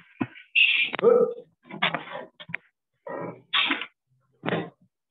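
A cat that has wandered into an office gives short, separate meows and mewing cries, fairly close and clear, in a string of bursts with quiet gaps between them and no talking.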